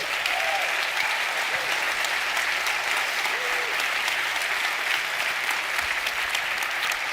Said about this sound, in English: stand up, give yourself a round of applause